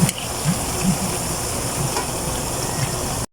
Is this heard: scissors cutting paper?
no